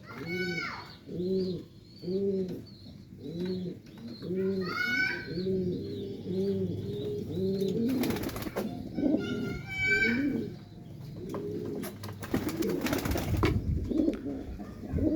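Racing pigeons in moult coo in a low, rolling rhythm, repeated soft throaty calls close by, with a few brief scuffling or flapping noises and brighter bursts near the end.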